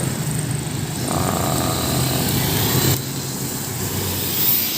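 Steady stream of cars and motorcycles crossing the Dumuklong Bridge over a river in Lucena, Quezon, on a road to Dalahican Port, a continuous close engine and tire rumble with a louder vehicle swelling past midway.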